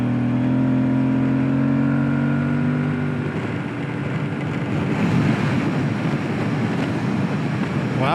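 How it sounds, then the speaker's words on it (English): Strong wind rumbling and buffeting during an adventure motorcycle ride in the Ochoco Mountains, a loud broadband roar over the engine's steady drone that grows rougher and gustier toward the end. "Wow, the wind's pretty strong."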